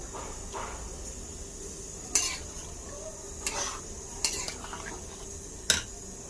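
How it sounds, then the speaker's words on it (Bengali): Soybean curry with garam masala is stirred in a pan, with four sharp utensil scrapes at irregular intervals over a soft, continuous low sizzle, heard close and without talk. "এবার ভালো করে নাড়াচাড়ি করে নেব"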